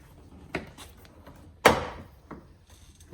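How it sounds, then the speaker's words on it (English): Plastic front valance on a Ram pickup being pried loose, giving a faint tap followed by one sharp, close crack as the trim pops free, then quiet handling. "you're going to take your valance here, you're going to pry it out"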